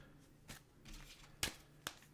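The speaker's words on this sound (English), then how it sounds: "So I'm going to give this one more shuffle and then cut this deck a couple of times." A deck of tarot cards being shuffled up close, with three or four quick riffling bursts separated by short pauses, quiet and without speech.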